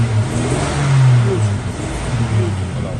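The engine of a 1959 Rover 75 idles and revs up close, a low, steady hum that swells once in the middle and then eases back down, with no talk over it.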